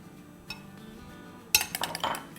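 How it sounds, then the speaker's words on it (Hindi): Eggs whisked in a bowl: one light tap, then a quick run of clinking strokes against the bowl, close and fairly loud. "अब इसको फेंट लेते हैं"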